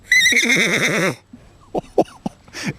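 A woman does a vocal imitation of a horse whinny at a metro park equestrian stable: one loud, quavering neigh that falls in pitch, followed by a few short breathy sounds and small noises.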